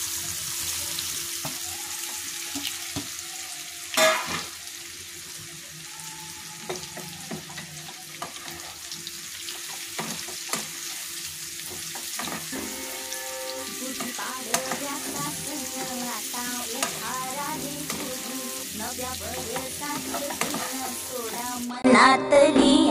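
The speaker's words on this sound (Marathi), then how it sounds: "हे आता आपण फ्राय करू।" Cut slices of aloo vadi, a potato fritter, fry in a pan with a soft, continuous crackling sizzle. Occasional clinks of a utensil and some tonal background sounds join in later, rising toward a louder clatter at the close.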